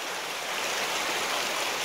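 A raging river rushing through a canyon, a constant broad roar of churning water, close and steady with no talk over it.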